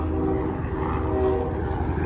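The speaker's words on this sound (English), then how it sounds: "it's fucking loud, helicopter." A helicopter passes overhead, making a loud, steady, close engine and rotor roar that fills the whole stretch.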